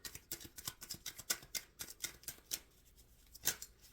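Tarot cards are riffled and shuffled in a quick, irregular run of crisp, close-up flicks and slaps, alone and fairly quiet.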